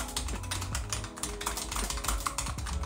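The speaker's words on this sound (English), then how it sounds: "The Keychron K1 is actually quieter and the sound appears to be dampened." Quick, steady typing on a Keychron K1 low-profile mechanical keyboard produces a dense run of light, muted clicks close up, sounding fairly dampened and quiet throughout.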